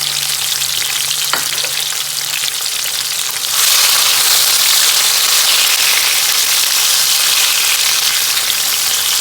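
Tomatoes and onions sizzle and fry steadily in a pan for an African dish, a continuous close hiss that grows brighter and louder about a third of the way through, with a faint clink early on.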